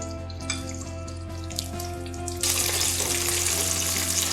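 Homemade KFC-style chicken pieces fry in hot oil with a steady sizzle under a constant low hum, the crackle swelling much louder and brighter partway through as the frying intensifies.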